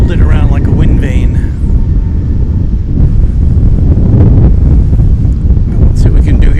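Strong wind buffeting a microphone outdoors at an airport during plane spotting, a loud continuous rumble that fills the whole stretch, with faint voices or distant aircraft noise barely showing beneath it.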